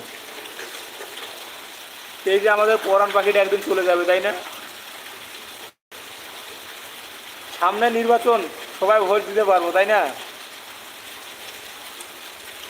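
Heavy rain falls in a steady, even hiss throughout, while a voice speaks in two stretches over it.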